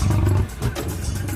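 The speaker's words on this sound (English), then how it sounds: "And the massive American lion." A massive American lion lets out a deep, rumbling roar, loud and close, with a growling low-pitched swell that dips briefly then surges again.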